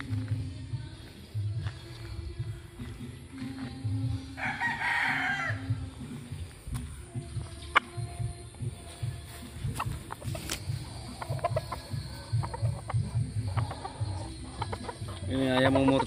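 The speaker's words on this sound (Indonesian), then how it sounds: "Ini ayam umur 7 bulan." A seven-month-old rooster crows and clucks close by, with repeated calls and a few bursts of crowing across the stretch, while people talk faintly in the background.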